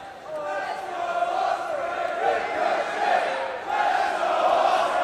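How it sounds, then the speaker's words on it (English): A large wrestling crowd in Newcastle at the Pro Wrestling World Cup finals roars and cheers continuously, loud and dense, with waves of shouting swelling and easing throughout. "Listen to this crowd in Newcastle, fired up for the Pro Wrestling World Cup finals."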